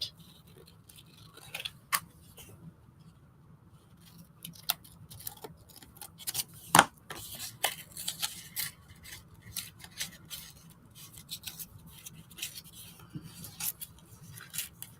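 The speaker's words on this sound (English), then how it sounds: "Let's cut around her hat." Scissors cut paper around the outline of a hat during collage work, giving a scattered series of quiet, close snips and crisp paper rustles at an irregular pace.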